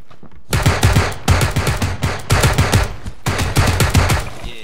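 Rapid automatic gunfire in the battle royale game PUBG: three long, loud bursts of rattling shots separated by brief gaps, close and dominant.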